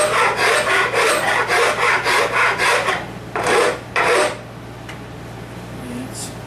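Wood is rasped down by hand to shape a handle: about a dozen rhythmic scraping strokes close by, a brief pause, two more strokes, then a low steady hum.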